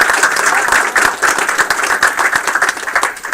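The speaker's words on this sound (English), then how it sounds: "another round of applause for everybody" An audience at a game studio greenlight celebration event claps, a dense burst of applause from a room full of people that swells and fluctuates at a lively, even pace for several seconds.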